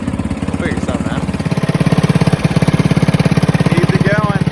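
Farmall M tractor engine warming up at idle after storage, a loud steady low chugging pulse close by with a fast even beat that holds throughout, a faint voice briefly in the background.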